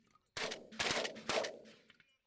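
Three loud shotgun blasts fired in quick succession outdoors during a Pennsylvania pigeon hunt, each with a sharp crack and a short ringing decay.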